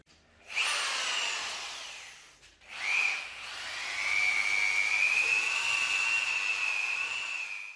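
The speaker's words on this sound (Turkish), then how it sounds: "Şimdi matkapla karıştıracağız." An electric drill mixes plaster mortar for repairing a damp-damaged wall. It gives a short whirring burst, pauses, then settles into a sustained, fairly quiet, steady whine that holds to the end, with no voices.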